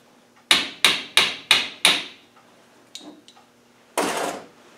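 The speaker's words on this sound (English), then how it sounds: "But just tap the shaft." A hammer taps a shaft out of a Land Rover high/low and diff lock transfer shift assembly on a bench: five sharp, evenly spaced metallic blows close by, then a few light knocks and one final heavier strike.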